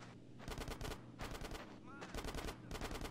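Rapid automatic gunfire in a GTA San Andreas firefight, bursts of machine-gun shots in several clusters, fairly quiet and distant-sounding with game effects mixed in and no talk.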